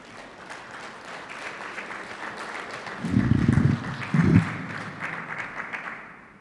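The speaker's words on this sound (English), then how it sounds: "should get a better round of applause" A crowd applauds at an evening awards ceremony, a steady wash of clapping that swells into two louder bursts, with a few brief low voices mixed in near the middle.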